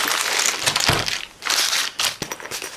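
A zipper runs along a tripod carry case being opened, giving rough scratchy bursts in several pulls with short pauses between them, close and fairly loud, no voices.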